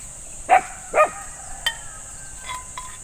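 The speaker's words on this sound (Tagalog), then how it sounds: "Ito mga aso na to." At an overnight moto-camping site, a dog gives two sharp barks close by. A few fainter, shorter yips follow against a quiet background with a faint steady hiss.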